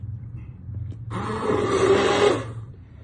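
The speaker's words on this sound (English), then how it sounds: "And then I'm gonna take my immersion blender" An immersion blender blending soup whirs loudly for about a second and a half, buzzing with a rough grinding tone over a low background hum, then cuts off.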